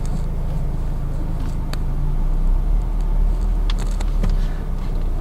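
A 2016 Suzuki Ciaz 1.2 GL with a four-cylinder engine and 94,000 km hums steadily and smoothly on a test drive. Low, even engine drone sits under faint road noise, broken by a few small clicks and knocks.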